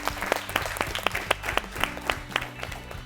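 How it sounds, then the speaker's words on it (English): A quiz show audience applauds a team, a short burst of brisk, fairly close clapping from a small crowd lasting about three seconds. "Please clap for them."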